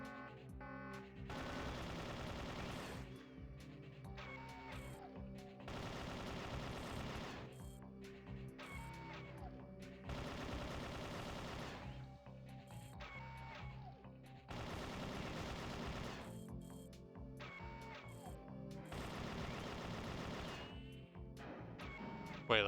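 Rapid automatic gunfire from a gun in mag dump mode in the Perfect Dark N64 video game, coming in repeated long bursts separated by short pauses, loud and dense, with no talk over it.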